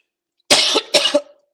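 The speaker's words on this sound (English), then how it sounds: "Sorry for my cough." A man coughs twice in quick succession while delivering a public political address, both coughs loud and close with a short gap between them and no speech over them.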